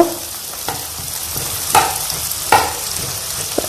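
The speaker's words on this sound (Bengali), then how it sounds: "এটাকে এবার ভালো মতো ভেজে নেব" Onions frying in a pan for egg chops, with a steady sizzle broken by a few sharp scraping stirs of a utensil, close and fairly loud.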